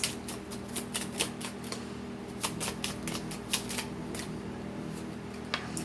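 Tarot cards are shuffled up close, giving a run of crisp riffling snaps and slaps at an irregular pace over a quiet background, with no talking.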